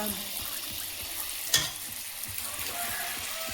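Palm fruit fritters fry in oil in a village kitchen with a low, steady bubbling sizzle and one brief sharp splash partway through.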